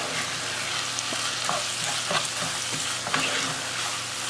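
Minced mutton keema fries in a pan with cumin and green chillies, a steady loud sizzle broken by the scrape and clack of a spoon mixing in the spices, no talking.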